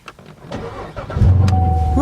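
A car engine cold-starts on a chilly track day: a short cranking sequence catches into a loud, close idle, with voices talking over it.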